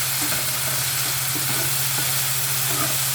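Green onion and chopped coriander frying in a hot pan, a steady close sizzle with faint stirring scrapes throughout, no voices.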